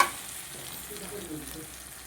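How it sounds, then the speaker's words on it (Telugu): Tamarind juice sizzling and being stirred in a frying pan while cooking vangi bath, a low steady frying hiss with soft stirring scrapes, fairly quiet and close, with no talking. "ఇలా చింతపండు పులుసు కానీ వేస్తున్నాను. ఇలా వేయించాలండి."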